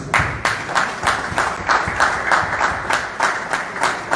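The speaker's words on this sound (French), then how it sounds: "je voulais vraiment vous demander tous d'applaudir très fort pour les directeurs" A concert audience applauds the directors, a dense, sustained wash of many hands clapping with rhythmic surges, fairly near and loud throughout.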